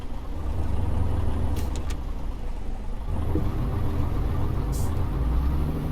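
Truck engine in Euro Truck Simulator 2 with Promods, a steady low rumble near idle that dips and picks up again partway through, running throughout without talk.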